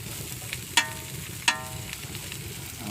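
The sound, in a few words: onions frying in a very hot pan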